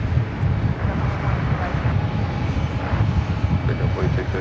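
A JetBlue Airbus A220-300 taxis into Terminal 5 at JFK, its engines giving a steady broad roar with low rumble that holds level throughout, with light wind noise across the microphone.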